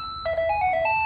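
The third ringer tone on a Panasonic KX-TG3611SXB cordless phone sounds as a short electronic ring of a few steady beeping tones that shift pitch, heard close up and alone.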